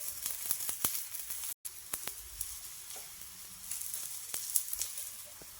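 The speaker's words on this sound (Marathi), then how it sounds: "हे थापून घेतलेलं थालीपीठ यावर टाकून घ्यायचं" Bottle gourd thalipeeth sizzles steadily on a hot oiled griddle, a close, bright crackling hiss with scattered sharp pops and a momentary dropout partway through.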